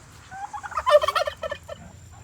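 A farm turkey gobbles in one rapid, rattling burst of calls lasting about a second, moderately close and clear against a quiet background.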